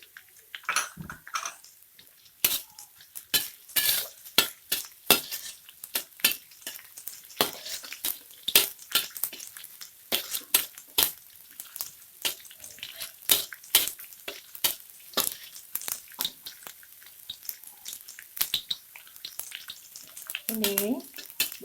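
Shallots and garlic stir-frying in a pan with lemongrass, lime leaves and ginger, heard as a long run of sharp, dense scraping and clattering strokes over a soft crackle, fairly close, with no talk.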